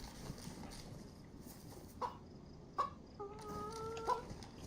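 A chicken in the survival video game DayZ makes a few short clucks and then a longer drawn-out call, over steady outdoor ambience, moderately near with no talking.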